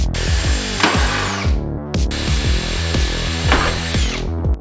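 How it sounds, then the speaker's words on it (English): A power drill bores out spot welds on a steel Land Cruiser cab panel, two loud, close whirring bursts with a grinding bite into metal and a brief pause between them. "First step in all of this is to cut the panel and unpick the spot welds where we're going to stretch it"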